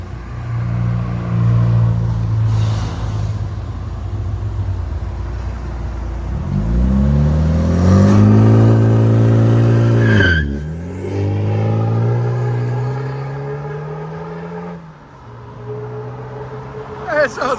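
A 1997 BMW M3 with a 3.2L engine swap, headers, downpipes and a Borla ProXS exhaust revs loudly and repeatedly, the engine climbing and falling through several long throttle blips close by, with people talking over it.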